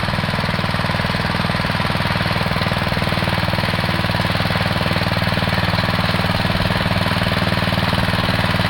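Husqvarna TF 230 tiller engine running steadily nearby, a loud, rapid mechanical chugging drone with a constant knocking pulse throughout and no talk over it.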